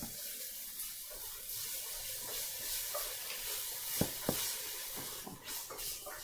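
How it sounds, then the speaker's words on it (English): Garlic dropped into a hot pan for a Thai soup sizzles with a steady hiss, with a few sharp clinks from a utensil against the pan near the end. "And then I'm going to put in my garlic."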